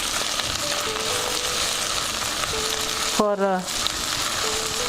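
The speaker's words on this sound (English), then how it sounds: "and saute it. I can feel the ginger garlic paste aroma." Ginger garlic paste sautéing in a pan gives off a steady, close sizzle that runs the whole time, with a short spoken word breaking in near the end.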